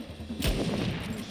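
A single loud gunshot booms up close in the action game Uncharted 4, followed by a rumbling echo and faint background battle noise.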